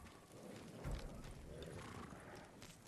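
Horse sounds from the samurai-era game Ghost of Tsushima, soft hoof clops and faint horse noises with one brief stomp-like thump, steady and close over a dense background of game ambience.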